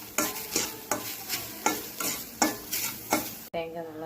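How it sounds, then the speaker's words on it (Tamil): Grated coconut being stirred and heated in a pan, a spoon scraping rhythmically about eight times in steady strokes over a soft sizzle, close and clear. "தேங்காய் நல்லா சூடாகிடுச்சு."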